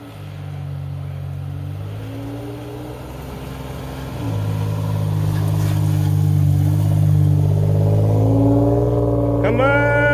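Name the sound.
Toyota 4Runner engine revving while struggling on icy road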